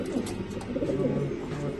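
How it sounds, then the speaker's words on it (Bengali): Racing pigeons at a breeding loft coo steadily in low, throaty rolling calls, close and continuous throughout with no clear talk. "এখানে কিছু কবুতর আছে এগুলো মূলত ব্রিডিং কেয়ার আমার"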